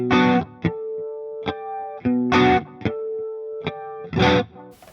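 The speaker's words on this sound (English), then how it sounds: "the delay really did a lot to open up clean tones, even more than just using a chorus" Clean electric guitar chords ring out through a delay effect, each strum followed by fading repeats that leave a roomy, spacious tail; several strums and single plucks play in a loose rhythm with no voices.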